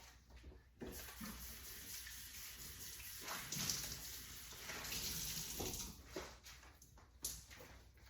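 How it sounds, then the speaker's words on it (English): A rag is rinsed under a running kitchen tap while water-bath canning BBQ sauce, a moderately faint, steady splashing flow with brief breaks and wringing surges, heard close and alone. "And I'm gonna rinse my rag."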